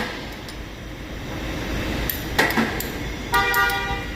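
Two short honks of a Nissan Navara pickup's horn, the second slightly longer, cutting through steady traffic noise with faint metallic clinks.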